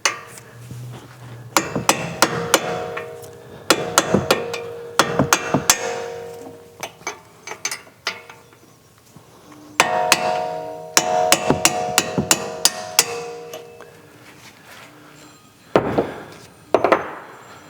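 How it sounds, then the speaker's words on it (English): A 3/8 socket used as a drift is tapped against the end of a strut bolt on an S550 Mustang during a coilover install, giving bursts of sharp metallic hammer strikes in irregular clusters with pauses between. "use a drift, or in this case a 3/8 socket, and you're going to tap on the end of the bolt here"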